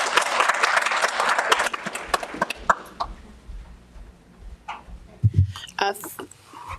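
Applause from an audience at a town council meeting, a dense burst of clapping at the start that thins into scattered claps and then fades under a few voices and room noise.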